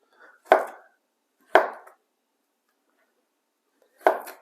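A knife slices through plantains on a cutting board in three separate crisp chops with pauses between them, close and clear in an otherwise quiet kitchen.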